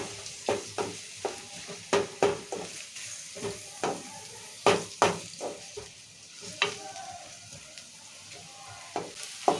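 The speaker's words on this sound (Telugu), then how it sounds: "ఇప్పుడు నూనె వేడైంది ఉల్లిగడ్డలు వేసుకుందాము ఉల్లిగడ్డలు మంచిగా వేయించుకోవాలి" Onions fry in hot oil for an ivy gourd curry, with a low sizzle under a steady rhythm of sharp spatula scrapes against the pan, close and clear with no talking.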